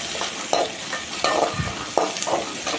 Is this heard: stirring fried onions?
yes